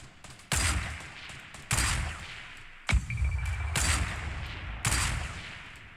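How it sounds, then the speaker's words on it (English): Fortnite gunfire in a 50 vs 50 match, five heavy booming shots spaced about a second apart, each with a long echoing tail, loud and near with no talk. "they're shooting below"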